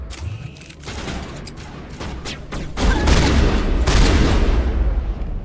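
Shotgun gunfire and explosions in the game Mass Effect Legendary Edition, a dense, loud fusillade of blasts and booms that swells into continuous heavy combat noise.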